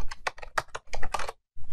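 Fast typing on a computer keyboard, a close series of crisp clicking keystrokes in quick bursts with a short pause before a final few presses, no voices.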